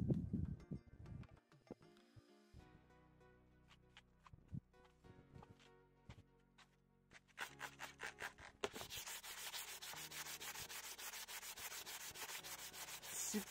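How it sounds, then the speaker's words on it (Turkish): A scratched plastic scooter gauge glass is wet-sanded by hand, starting with scattered faint taps and short scrapes, then settling into a continuous, fairly loud gritty rubbing in the second half. "bu spreyden bulamasanız da sulu zımpara da yapabilirsiniz"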